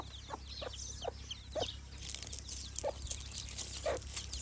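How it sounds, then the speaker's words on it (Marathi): A hen clucks softly and repeatedly nearby, with faint high peeping from black chicks and a steady low hum in the background. "इथं आमच्या कोंबडी अशी चिल्ल काय भारी भारी दिसत आहे"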